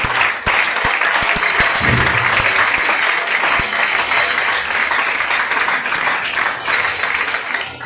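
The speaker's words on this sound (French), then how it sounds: "est-ce qu'on peut acclamer très fort pour Amen" An audience at a church gathering applauds loudly: dense, sustained clapping fills the space evenly from start to finish, with a few sharper individual claps standing out early on.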